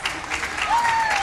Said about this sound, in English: let's give them all a nice, warm applause